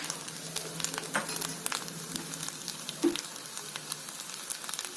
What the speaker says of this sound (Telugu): కొబ్బరి వేగింది